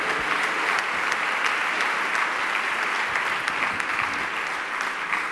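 Sustained applause from an audience at a tennis club gala evening, honoring the volunteers, a steady dense wash of clapping at moderate level with no pause.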